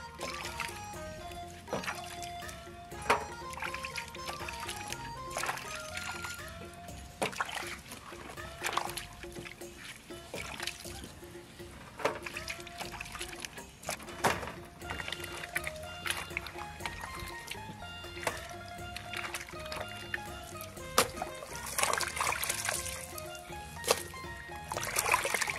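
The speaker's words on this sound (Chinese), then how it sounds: "把泡好的猪皮洗一下" Soaked pork skin is washed by hand, bringing repeated close splashes and trickles of water with irregular sloshing bursts, set against a soft tonal musical background throughout.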